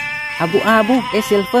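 A goat bleats several times in quick succession while being loaded onto a livestock truck, close and loud, with someone talking over the calls.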